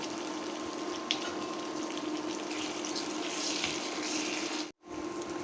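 Prawns seasoned with salt, turmeric and chili sizzle in a pan with softened onions, a steady close hiss of frying that runs unbroken, briefly cutting out near the end.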